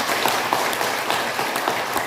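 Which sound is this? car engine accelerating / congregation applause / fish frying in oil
congregation applause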